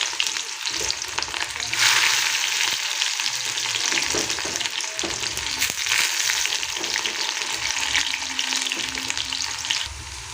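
Onion and chili hit hot oil in a home kitchen, a loud continuous sizzle and crackle of frying with occasional stirring scrapes, close and steady throughout.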